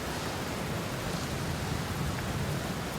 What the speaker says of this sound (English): In the dark, the rain came down even harder.